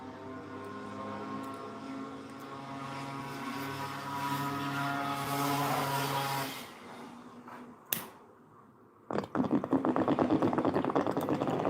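A motorcycle on a rainy road drones past with a steady harmonic engine note that swells and fades, then a sharp click and a dense crackling hiss of rain or a close lighter at the end.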